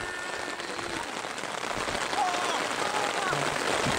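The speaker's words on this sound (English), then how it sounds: "It's hailing! It's freaking hailing!" Hail falls outdoors during a muddy New Year's football game, a dense, steady pattering that grows slightly louder halfway through, with faint voices in the background.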